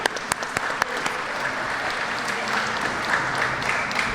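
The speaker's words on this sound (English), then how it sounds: "And yes, a round of applause for Tiara for all the work that you do." Audience clapping at a community engagement meeting, opening with a few sharp individual claps that swell into steady applause lasting several seconds, close and fairly loud.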